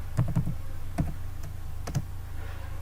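A few sparse computer keyboard key presses on a Windows 11 PC, clicking in short isolated bursts against a low steady background hum, with no speech.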